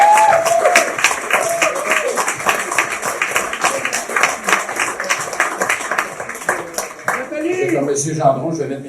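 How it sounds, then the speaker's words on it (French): A crowd of supporters claps for the Avenir Saint-Jérôme candidates at a municipal election victory event, a dense sustained round of applause with scattered cheers, and a voice speaks near the end. "J'aimerais ça qu'on les applaudisse tous."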